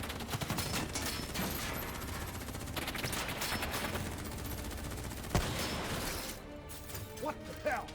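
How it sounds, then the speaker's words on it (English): Dense gunfire in Call of Duty Black Ops 3 rattles on continuously as rapid automatic bursts, with a sharper crack partway through and voices shouting beneath the shooting. "Who's shooting?"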